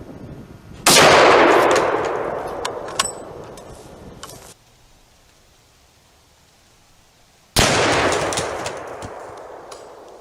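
Two loud rifle shots from a .375 H&H firing Hornady 300-grain DGS solids into concrete blocks, each a sharp blast with a long echoing decay, separated by several seconds of near silence.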